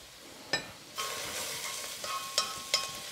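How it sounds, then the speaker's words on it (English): Aromatics for a vegetable soup sizzle gently in a pot as a spoon stirs them, with a few sharp scraping taps over a soft continuous frying hiss. "we'll reach over and give our aromatics another little stir"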